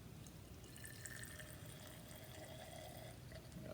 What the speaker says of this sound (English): add enough copper sulfate solution so that roughly half the nail is covered